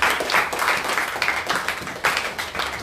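A church congregation applauds together in acclaim of Jesus, brisk uneven clapping with a few louder bursts, steady and close for a few seconds.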